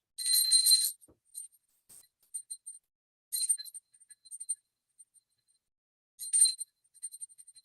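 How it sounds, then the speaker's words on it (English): A small ritual bell rung during a pooja offering, three bright high-pitched bursts of ringing spaced a few seconds apart with faint tinkling between them, close and alone with no talking. "And now I take a bell and offer this 3 times, offering the element of sound."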